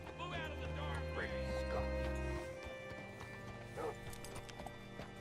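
Horse hooves clip-clop over a game soundtrack with sustained music, the steps distinct at first and then fading under a quieter background.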